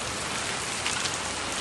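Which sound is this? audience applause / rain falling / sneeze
rain falling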